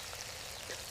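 Small onions with ginger-garlic paste sautéing in a pan for a Madurai-style chicken curry, a brief, soft, steady crackling sizzle.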